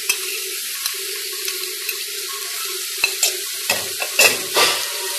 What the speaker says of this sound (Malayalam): നന്നായി ഇളക്കി യോജിപ്പിച്ച് കൊടുക്കുക